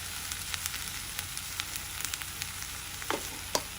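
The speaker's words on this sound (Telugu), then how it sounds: "వీటన్నిటిని 2 నిమిషాలు వేగనివ్వండి." Ingredients for tomato mint chutney frying in a pan, a steady close sizzle with scattered light pops and a few stirring taps, no talking.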